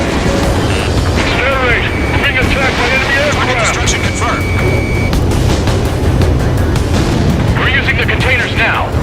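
Ace Combat 7 game audio: a destroyed target explodes in deep booming blasts amid jet engine roar and combat noise. Radio voices speak over the continuous rumble.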